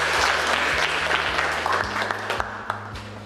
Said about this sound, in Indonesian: Ya, kita kasih aplaus lagi ya.